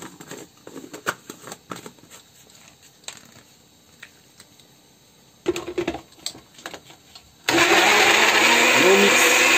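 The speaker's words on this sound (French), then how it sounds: "Et on mixe." Blender whirring at full speed as boiled tomatoes and a little water are puréed for lamb harira soup, a loud steady roar starting abruptly after scattered kitchen clatter and handling knocks.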